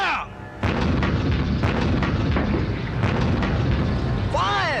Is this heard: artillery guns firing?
yes